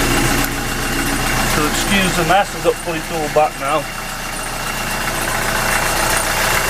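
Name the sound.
Beta 43 narrowboat diesel engine idling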